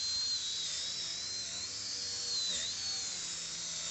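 A high-RPM rotary polisher buffs a car headlight with compound, producing a steady, loud, whining drone that holds a nearly constant pitch throughout with slight wavers, close to the microphone and with no talking.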